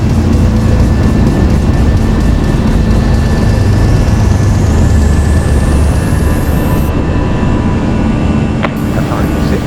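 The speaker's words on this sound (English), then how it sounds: "As this Flight Factor Airbus A320 reaches rotate speed, the ReaL Airbus pilot eases back on the control stick, easing this little aircraft into the sky." Simulated Airbus A320 jet taking off in the X-Plane 11 flight simulator game, bound from Doha: a loud, steady roar of engine noise with a high whine that climbs in pitch as the aircraft rotates and lifts off.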